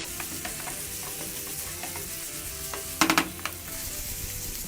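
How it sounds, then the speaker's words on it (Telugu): Chicken cooking in a pan among onions for an Andhra-style betel leaf chicken fry, with a steady close sizzle throughout and a brief louder burst of clatter and crackle near the middle. "ఈ విధంగా చక్కగా చికెన్ మగ్గుతూ ఉంటుంది."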